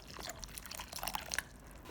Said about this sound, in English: pour in warm water until they are fully submerged